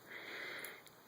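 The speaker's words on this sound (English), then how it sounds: "Hang on, let me sniff it." One soft, close inhale as someone sniffs a vanilla bean scented candle, a short quiet breath of air lasting under a second.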